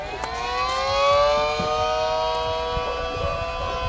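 A civil defense siren, a Hickory Ridge 2001, wails steadily with layered rising tones, sustained and fairly loud, with faint background rumble and no talking.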